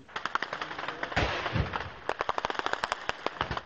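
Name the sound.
machine gun and anti-aircraft fire exchange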